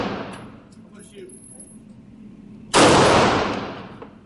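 A single sharp, loud gunshot at a gun range that decays quickly, after a few seconds of muffled background noise and faint movement.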